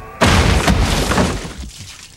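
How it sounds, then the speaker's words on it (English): A Terry's chocolate orange is whacked and smashed in a single sharp, loud crack that breaks into a brief crumbling clatter and then dies away. "When you whack a Terry's chocolate orange,"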